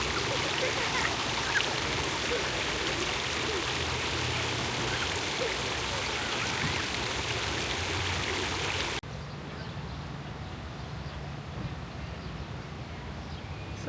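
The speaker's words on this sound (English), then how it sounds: "So they even got a water fountain if you need it." Water fountain splashing in an outdoor town square in Bentonville, a steady broadband rush that continues throughout, slightly quieter in the final seconds, with no one speaking.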